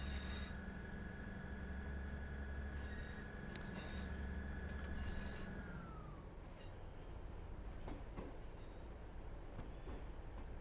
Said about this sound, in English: Just wanted to hear the engine roar.